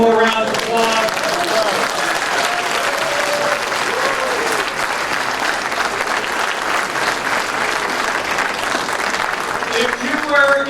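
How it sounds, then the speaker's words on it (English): Sustained applause for award recipients at a hall of fame ceremony, a loud, even wash of many hands clapping throughout, with voices talking faintly beneath it. "Can you give all the award recipients one more round of applause?"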